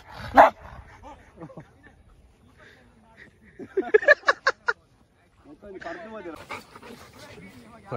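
A dog barks during dog training: a single sharp bark, then a quick burst of several barks and yips, loud and close, mixed in with people talking.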